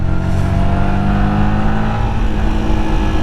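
A Yamaha 15 horsepower motorcycle engine accelerates with a steady, loud drone and a slowly rising pitch, heard up close without any speech.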